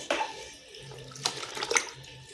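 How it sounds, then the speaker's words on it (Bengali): Water splashes and runs in a sink or basin as cut whole leaves are soaked, with a steady wash of flow and a few sharper splashes close by. "সাজিয়ে নিয়ে এগুলো সব আমি জলে ভিজিয়ে রেখে দেবো।"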